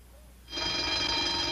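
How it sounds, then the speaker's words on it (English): An old-fashioned telephone bell in a 1960s sitcom scene starts ringing abruptly after a quiet moment, a continuous bright metallic trill from the next room, moderately loud and steady to the end with no talk. "Hey, the phone's ringing in there."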